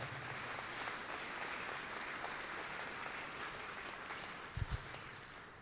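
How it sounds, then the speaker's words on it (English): Audience applause for city councilors at a ribbon cutting for the Midco Aquatic Center in Sioux Falls: a steady, fairly quiet wash of clapping over about six seconds, with a couple of brief low thumps near the end. "Please give them a round of applause."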